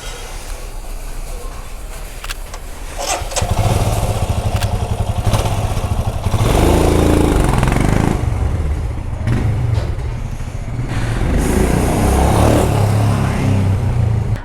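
Royal Enfield Himalayan BS6 motorcycle with a front cone set (steering head bearing) issue, heard as a loud, steady engine running with rattling and clattering from the front; a brief voice is heard faintly under the noise.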